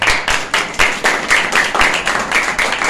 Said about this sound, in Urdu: زوردار تالیاں لگاؤ اس بات کے لیے